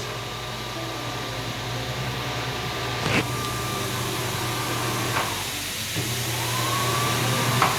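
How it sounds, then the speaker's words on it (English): A bathroom exhaust fan runs steadily during a home inspection walkthrough, giving a constant whirring drone with a faint tonal whine and a few soft clicks along the way. "So your exhaust fan works."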